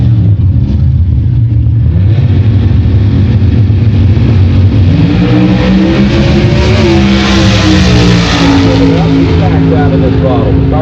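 An NHRA drag racing car's engine roars loudly with rising and falling revs as the throttle is backed off, the harsh mechanical tone dominating over a commentator's voice.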